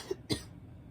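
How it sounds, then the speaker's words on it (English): A short, rough throat-clearing burst, close to the mic, preceded by a faint brief grunt, then quiet room tone. "Just trying to clear my throat here"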